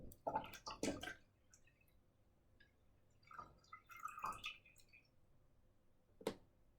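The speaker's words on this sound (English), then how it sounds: "So I need to fill water." Water splashes and drips in short bursts as a hydroponic garden is filled, with a few wet pours and a lone drip near the end, close by and fairly quiet.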